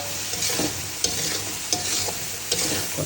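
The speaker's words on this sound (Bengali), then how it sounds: "কাঁচামরিচ দিয়ে দিলাম। কষাতে থাকি," Green chilies stirred and sautéed in a frying pan, a steady oily sizzle broken by regular scraping strokes of a utensil roughly every three-quarters of a second, close and alone.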